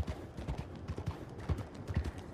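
Horse hooves clip-clop at a brisk, uneven trot in Red Dead Redemption 2, close and fairly soft, repeated thuds over a light background hiss.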